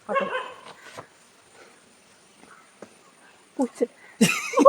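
A person mimics a dog with short yipping barks and whimpers, a few scattered sounds then a quick burst of louder yelps near the end.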